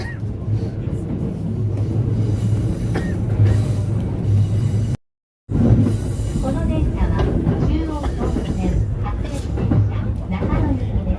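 Inside a Chuo Line train riding from Akihabara to Shinjuku, a loud, steady rumble of wheels and car noise fills the space with voices murmuring underneath, broken by a brief gap of silence.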